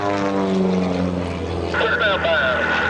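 Blue Angels airplanes fly past at an airshow, a loud droning engine tone with sliding pitch that rises as they pass overhead, while an announcer talks over the noise.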